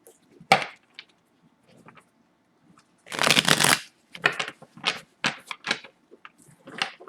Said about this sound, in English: Just shuffle it a couple of times because you shuffle really good.